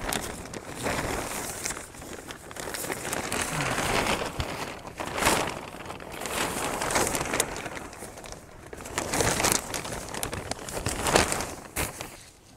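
A long sheet of plastic crinkles and rustles continuously as it is pulled over two garden beds, a close, dense crackling that swells and fades in waves.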